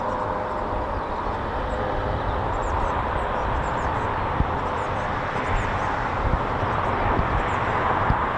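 A steady, broad roar from an RAF training aircraft flying during a King's Birthday flypast rehearsal, loud and continuous with no clear rise or fade, over faint background murmur.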